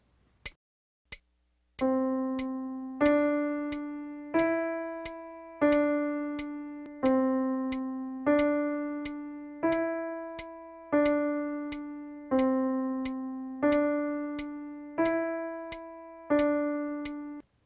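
Piano plays a steady pattern of sustained notes, each held about two beats, after a few brief opening taps, sounding alone and close with no voice.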